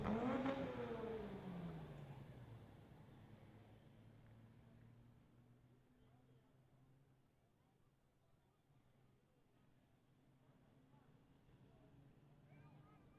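A drag race car at a drag racing event roars away hard and climbs through the gears, with rising engine tones that fade into the distance and leave a steady low rumble.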